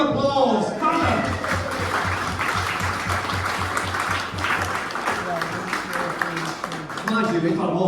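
Audience applause at an after-dinner speaking event, a steady sustained clapping across the whole stretch with voices talking and chuckling over it.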